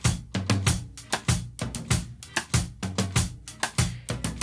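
A live drum kit is picked up by overhead condenser microphones, with a steady rhythm of punchy hits and bright cymbal wash in a quick repeating groove, and no voices.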